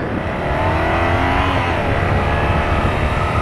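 A 2017 BMW R nineT Cafe Racer motorcycle is ridden on cold roads, giving a loud, continuous engine roar with rising revs under strong wind rush and no talking.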